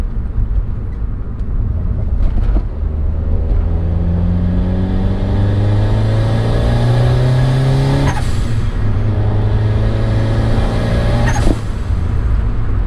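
Turbocharged Honda Accord engine revving hard through an acceleration run, its pitch climbing steadily with a brief gear-change dip around the middle and another near the end, loud and continuous with no talk.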